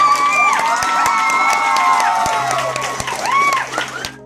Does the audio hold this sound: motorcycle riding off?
no